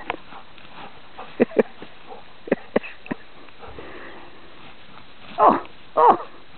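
A Golden Retriever sniffs in short, sharp bursts at close range, with a few snorts and two louder huffs near the end.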